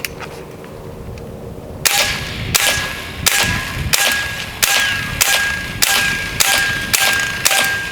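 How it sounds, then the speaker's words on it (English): Sharp, loud snapping shots from a PCP airgun fitted with a homemade extended magazine, nine evenly spaced reports with metallic ringing tails after a quiet start, no voices. "Put it in the gun. Shoot it."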